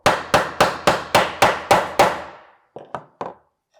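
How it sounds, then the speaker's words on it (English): A hammer taps the long wooden side piece of a small homemade cajon into place, eight quick even knocks in a row followed by three softer, scattered taps, close and clear with no voices. "I'm just going to hammer it so that it, centers this long side piece"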